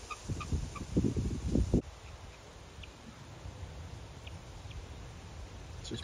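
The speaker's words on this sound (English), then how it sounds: "so we do have this turkey out here" A wild turkey in a South Florida urban area gives a burst of rough, rapid gobbling calls at close range, then falls quiet, leaving faint ambient noise and a few distant chirps.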